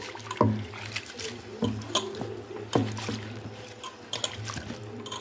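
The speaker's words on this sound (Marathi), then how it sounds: "हे वरचं जेवढं पाणी आहे ना तेवढं सर्व ओतून काढणार आहोत" Water drains off washed sago pearls in a pot, with faint trickling and dripping and a few sharp knocks of the vessel, close by and quiet.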